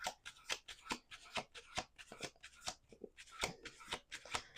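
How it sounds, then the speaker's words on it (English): Tarot cards being shuffled by hand, a quick series of crisp riffling bursts and soft slaps in a steady rhythm, close and clear, with no talking. "we're going to do 2 more shuffles"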